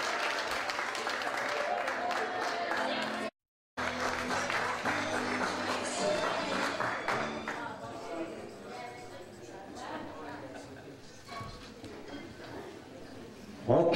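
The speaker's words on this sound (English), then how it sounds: "One more big round of applause for Jasmine." An audience applauds a six-year-old girl's dance, with loud, dense clapping at first that thins into scattered claps while people talk over it, followed by a brief dropout and a quieter tail.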